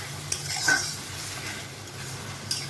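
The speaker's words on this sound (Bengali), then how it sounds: "মাছগুলোকে দিয়ে এখন একটু ওলট পালট করে নাড়াচাড়া করে" Fish being turned and stirred in a frying pan, a soft steady sizzle with a couple of brief utensil scrapes against the pan, no voices.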